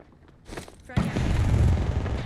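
Frag grenade blast in the Apex Legends video game, a sudden loud boom after a short lead-in of softer game sounds, with a rumbling tail carrying on; a voice speaks just before.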